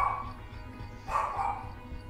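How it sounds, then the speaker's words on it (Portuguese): A dog barks in the background during a Rainbow Six Siege stream: two muffled barks, one at the start and a louder one about a second later, faint under game noise. "latido do Barry tá vazando"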